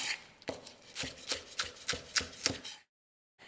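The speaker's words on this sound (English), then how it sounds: "Just keep chopping. And again, that's called a bias cut." A knife chops dinosaur kale on a board with a bias cut. About eight crisp, fairly even strokes land close and clear, then the sound stops.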